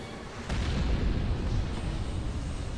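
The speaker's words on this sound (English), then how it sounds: "Oh, that was not a very satisfying explosion." A Halo 4 video game explosion gives a sudden broadband blast followed by a sustained loud low rumble and crackle that carries on for a couple of seconds, with no voices over it.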